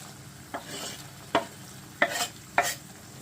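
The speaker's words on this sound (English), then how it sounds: "let's put it in the pan" Chopped canned tomato stirred in a pan for spaghetti sauce, four brief scraping, wet sloshing strokes spaced across the moment, close and moderately quiet with a faint sizzle underneath.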